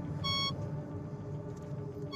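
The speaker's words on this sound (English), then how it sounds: "there's a really high-pitched noise like you were getting before, and it gets really like beep beep beep beep beep" Electronic tracking receiver giving a short burst of high-pitched beeps as the signal strengthens during a police search, standing out briefly over a steady low engine rumble, with a faint beep returning at the very end.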